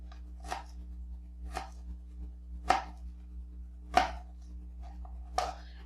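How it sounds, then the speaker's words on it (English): A knife slicing through a garlic clove on a cutting board, five crisp separate chops spaced about a second apart, close and clear over quiet background hum. "Now we're going to slice up our clove."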